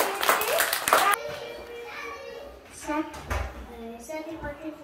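A short round of clapping at a school celebration for 28 October, cutting off abruptly, followed by someone speaking quietly.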